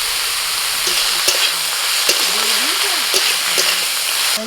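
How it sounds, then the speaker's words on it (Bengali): Leafy greens dropped into a pan of frying onions set off a steady, close sizzle and crackle, with a few sharp clattering stirs or knocks of a utensil against the pan. "পেঁয়াজটা একটু ভেজে নিয়ে এবার আমি শাকটা দিয়ে দিচ্ছি"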